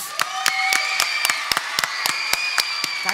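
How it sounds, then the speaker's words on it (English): Rhythmic clapping at a cooking show, about a dozen sharp, evenly spaced claps over a bright sustained musical tone, close and loud. "big round of applause."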